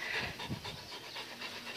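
A dog pants quickly and rhythmically in a backyard, close and fairly soft, with a breathy hiss to each rapid breath.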